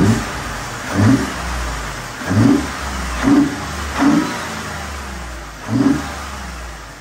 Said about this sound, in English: This sounds so much better than stock. Let me give you guys a couple revs so you can hear it.